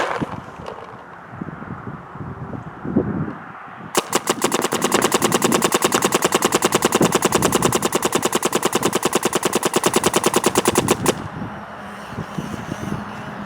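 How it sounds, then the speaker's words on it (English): Geo4 paintball gun firing a long, rapid uninterrupted burst until empty, a loud close machine-gun-like rattle of shots lasting about seven seconds, after a stretch of outdoor ambience. "still shooting out of the Geo4 just fine"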